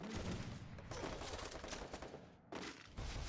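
Rapid gunfire from a shooting video game, dense overlapping bursts of shots crackling almost continuously with a brief drop near the end, loud and close with no voices.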